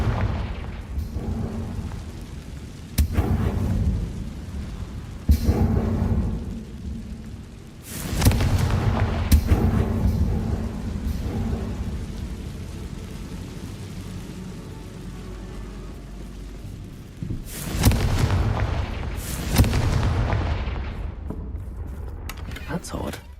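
Repeated Confringo fire-spell blasts from the Hogwarts Legacy video game, several loud booming bursts spaced irregularly over a rumbling game soundscape, with spoken words now and then.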